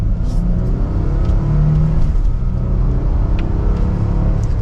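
A 2024 Nissan Frontier PRO-4X pulls hard in second gear in manual shift mode, a loud, deep engine drone that holds steady and strong throughout, heard from inside the cab.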